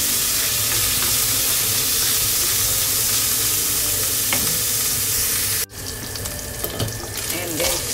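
Pork frying in a pan makes a loud, close sizzle. Midway a sharp clatter cuts in, after which the sizzle continues with scattered stirring and scraping sounds.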